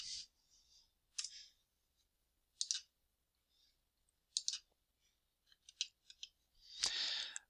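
Computer mouse clicking during a web form search, a scattered series of quiet, sharp clicks with pauses between them, close and alone in a silent room.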